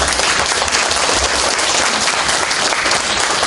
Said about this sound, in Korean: 박수도 타이밍을 맞춰야죠